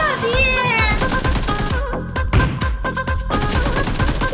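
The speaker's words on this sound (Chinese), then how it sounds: "窗外的枪声暂且不管" Gunfire in the mobile battle royale game Peacekeeper Elite, rapid bursts of automatic shots heard from outside a building, repeating in quick clusters beneath a voice talking over it.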